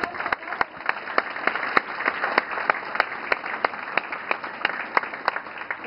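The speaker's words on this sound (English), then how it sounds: "Give her another round of applause." Expo audience applauding actress Alaina Huffman, dense steady clapping from a sizeable crowd with sharp individual claps standing out, sustained for several seconds.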